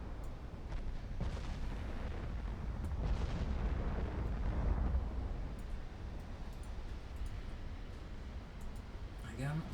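Battleship naval guns fire in the video game Ultimate Admiral Dreadnoughts, heavy booms and rumbling blasts rolling one after another under a continuous wash of distant battle noise.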